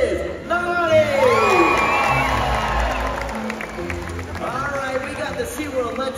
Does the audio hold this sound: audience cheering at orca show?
yes